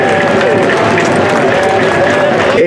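Crowd applause at a street carnival parade in Abrapampa, with horseback riders and troupes of copla singers; a dense, steady wash of clapping and cheering fills the whole stretch with tonal music or voices mixed in.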